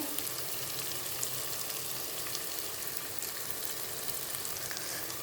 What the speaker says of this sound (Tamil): நல்லா பதமாக நல்லா அந்த பக்கம் இந்த பக்கம் கிளறி விடுங்க